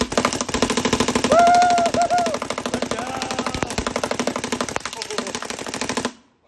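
Rapid, steady stream of close, loud shots from a custom anodized Naughty Dogs Intimidator paintball marker, firing continuously for about six seconds before stopping abruptly.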